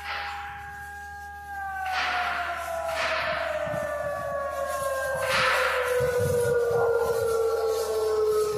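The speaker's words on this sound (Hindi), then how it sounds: "चीन ने चेतावनी सायरन उस वक्त बजाया" A Chinese warning siren near the India–China border wails, droning steadily with a slowly falling pitch, loud and continuous, with faint thuds and rumbling underneath.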